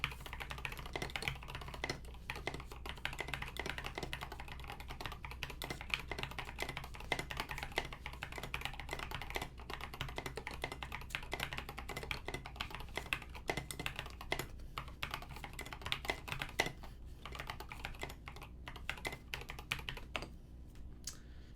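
A polycarbonate KBD 661 keyboard fitted with lubed retooled black switches and SA keycaps is typed on steadily and close up, with fast, dense clacky keystrokes and no pauses for about twenty seconds, and no talk.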